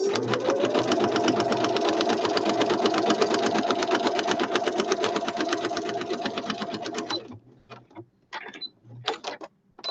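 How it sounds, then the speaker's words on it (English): A sewing machine runs a straight stitch on a decorative paper ephemera piece, a rapid steady mechanical clatter close up for several seconds, then stopping, followed by a few short handling sounds. "I'm going to do straight stitch on this side"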